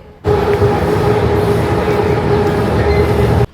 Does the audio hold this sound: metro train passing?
yes